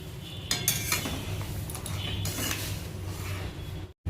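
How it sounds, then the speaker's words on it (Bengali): A spoon scrapes and clinks against a cooking pot as moong dal with winter vegetables is stirred, steady scraping with a few sharper metallic knocks and no talking. "আবার হালকা করে একটু মিশিয়ে নিচ্ছে"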